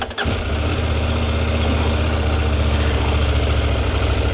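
A 2023 CFMOTO Ibex 800T motorcycle engine catches with a short cranking burst, then settles into a steady, loud, close idle with a low throbbing rumble, no voices.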